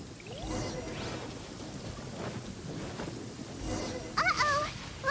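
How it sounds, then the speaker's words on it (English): Thunderstorm in Genshin Impact: steady rain hiss under low rolling rumbles of thunder, with a few sharp chirping game-effect sounds near the end. "Lightning storm!"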